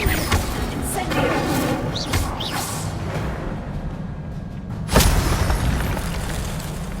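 An Incendio fire spell cast in Hogwarts Legacy, a dense whooshing roar of flame with a sharp burst near the end over continuous game ambience, no speech.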